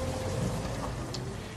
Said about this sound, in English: Oh, and it was still raining.